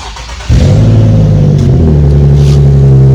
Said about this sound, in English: This one's got upgraded exhaust on it.